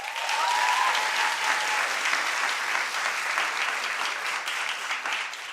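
A concert-talk audience claps loudly and continuously for a vote on a tour opener, a thick even wash of applause with a brief whistle near the start.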